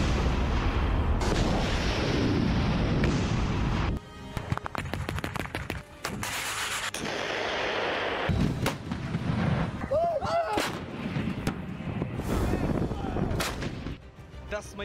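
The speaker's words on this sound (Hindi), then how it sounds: "डोनेट नदी पर बने इस पुल को यूक्रेन ने तोपों से हमला करके उड़ा दिया।" Ukrainian artillery shells a bridge over the Donets river in a series of loud, heavy booming blasts separated by short gaps, with a brief voice partway through.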